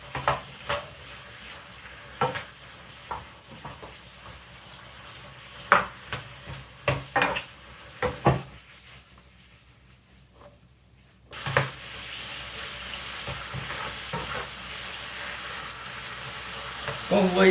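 Cabbage frying in a pan while being stirred for jajangmyeon, quiet sizzling broken by scattered scrapes and knocks of the utensil, a short near-silent gap, then a steadier, louder sizzle resuming.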